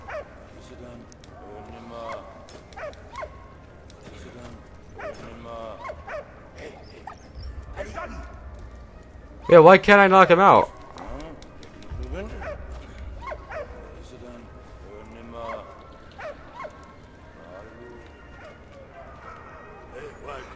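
In Valiant Hearts, a dog's sharp bark bursts out once in a loud, brief flurry, with someone talking before and after it and soft in-game ambience underneath.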